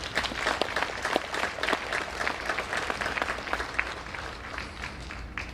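Sustained audience applause at a Veterans Day ceremony at Weatherford College, a steady, dense patter of many hands clapping throughout without voices.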